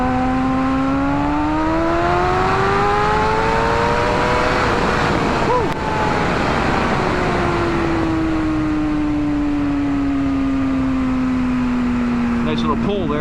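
A 2007 Kawasaki Ninja ZX6R sport bike engine accelerates through the gears while riding, its high whine climbing in pitch, dropping at a shift, then falling steadily, loud and continuous under wind noise.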